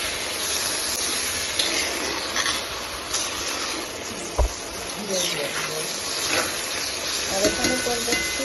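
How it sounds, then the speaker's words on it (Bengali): Bitter gourd and potato curry with a little added water sizzling in a pan, a steady broad hiss with occasional clinks of stirring, alone. "এটা পড়বে এখন এখানে করলা আলুর তরকারিটা"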